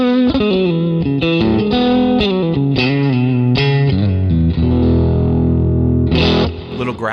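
An electric guitar runs through a captured Deluxe Reverb amp with overdrive, playing a thick, gritty melodic phrase that rises and ends on a held, sustaining chord.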